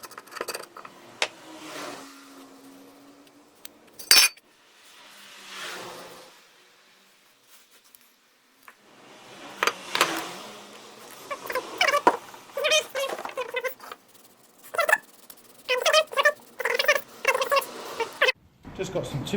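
Gunky old sealant is scraped off the rocker gasket surface of a classic VW Beetle in bursts of close, scratchy strokes, some short and quick, others longer, with quiet pauses between.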